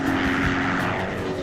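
A cartoon helicopter flies past in a children's railway story, its steady whirring rotor and engine drone filling the scene at a constant, fairly loud level with no talk over it.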